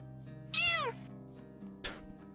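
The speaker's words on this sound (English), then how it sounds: "Cat." A house cat gives one clear, drawn-out meow, then a shorter, fainter one, against quiet room background.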